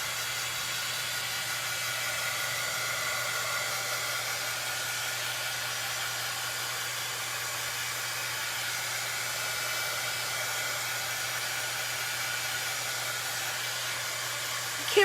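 A hair dryer blows steadily on fresh Waverly chalk paint coating a Dollar Tree tiered tray, a continuous close whooshing hiss with a low motor hum and no talking.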